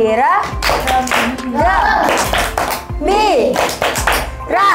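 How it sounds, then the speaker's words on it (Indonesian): Children clapping in rhythmic patterns during a chanted group cheer at a maths tutoring class, with sharp claps that are close, loud and mixed with their sing-song voices. "Tepuk semangat."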